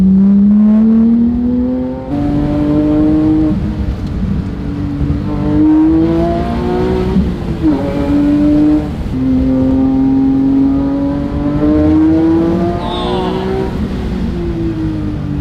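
A tuned Porsche 997.2 GT3 with the Gentlemen's Spec Performance Package accelerates through the gears, its engine rising in pitch in long loud climbs, dropping at each shift and climbing again, heard up close from the cabin.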